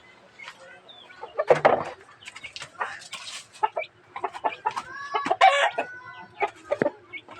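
Basilan chickens cluck busily in a backyard flock while a rooster crows in a long rising call, with irregular bursts of close clucking throughout.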